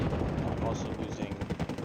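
Rapid machine-gun bursts and scattered gunshots from a jungle infantry battle in a 3v3 war video game, dense and continuous across the whole stretch, with a faint voice murmuring underneath.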